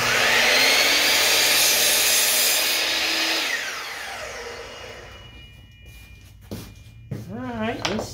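A power tool cuts a bevel off a piece of wood in a woodshop, a loud sustained whine that winds down after a few seconds, followed by someone talking.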